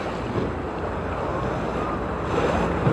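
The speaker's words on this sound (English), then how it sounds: "These waves are crazy." Waves in a water-park wave pool surge in a steady, loud wash of rushing water and wind noise, continuous and close with no speech over it.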